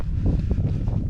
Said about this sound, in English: It was windy, cold, and dry at the same time.